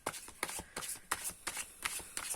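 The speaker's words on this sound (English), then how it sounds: "Let me shuffle the cards a bit." Tarot cards riffle and slap in a rapid, rhythmic shuffle close to the microphone, a series of crisp bursts repeating every fraction of a second without talk.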